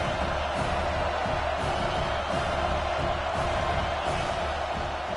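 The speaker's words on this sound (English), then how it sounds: "This crowd knows this defense needs them right now." A football stadium crowd at a UNC game roars in a steady, dense wall of cheering, with faint whoops rising now and then, heard from a distance.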